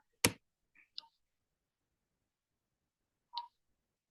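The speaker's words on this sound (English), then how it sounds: "So I will click on this" A single sharp mouse click on a computer screen's start evaluation button, followed by a few faint, scattered ticks in an otherwise quiet room.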